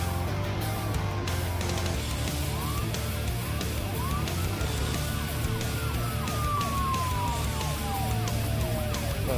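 Police sirens wailing in a motorbike video game, several rising and falling siren tones sweeping over a steady engine drone, no voices.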